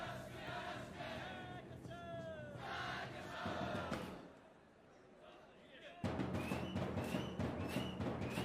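A large school crowd chanting in a Haikyuu anime volleyball episode, loud massed voices in rhythmic bursts that drop away briefly before surging back in strongly.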